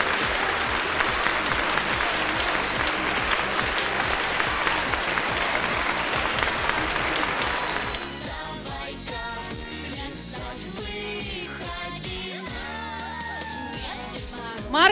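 Crowd applause for the Miss Talent winner at a regional beauty pageant, Miss Western Ukraine Bukovina Open 2010: loud sustained clapping with some whoops and cheers, mixed with music and a voice in the second half.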